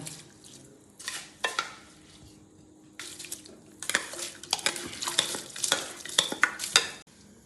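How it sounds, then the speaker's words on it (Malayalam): Onions sautéed in a pot for vegetable biryani, stirred with repeated scraping strokes of a spoon against the metal over a soft, steady sizzle, close and alone with no talk. "ഉള്ളി വാട്ടാൻ വേണ്ടിയിട്ട് ഇടുന്നുണ്ട്. നന്നായി ഒന്നിത് ഇളക്കട്ട്"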